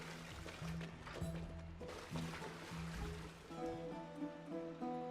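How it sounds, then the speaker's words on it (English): Water flows and splashes in the video game Honkai Star Rail, a soft continuous burble layered with faint game music tones, quiet and steady without talk. "Oh, these realistic water physics."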